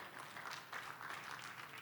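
A church congregation claps its hands in praise during a sermon, a soft, steady wash of applause heard at a distance for the whole short stretch.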